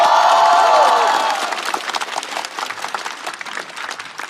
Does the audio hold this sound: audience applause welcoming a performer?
yes